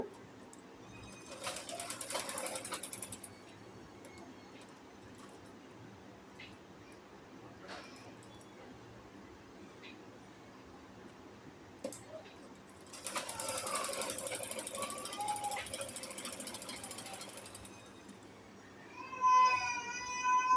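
Sewing machine stitching a folded hem on a round petticoat, running in two clear bursts of a few seconds each with quiet handling between, at moderate distance.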